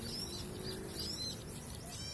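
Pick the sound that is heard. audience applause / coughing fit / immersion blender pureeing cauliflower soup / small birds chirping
small birds chirping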